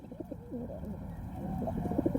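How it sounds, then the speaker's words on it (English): Pigeons cooing in a city, soft repeated throaty coos in short bursts, fairly close and alone. "Pigeons are everywhere in our cities."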